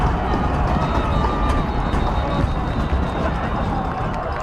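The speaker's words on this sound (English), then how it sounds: "Crowd is getting loud, trying to distract that kicker," A high school football playoff crowd, Danvers against Blackstone Valley Tech, roars loudly and continuously to distract the kicker, a thick, sustained wall of noise with a voice talking over it.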